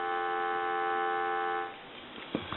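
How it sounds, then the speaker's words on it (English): Steady telephone dial tone from a converted Princess telephone under repair, a continuous stack of even harmonic lines holding for about a second and a half before cutting off, followed by quieter handling clicks and faint rustle. "Give you some dial tone."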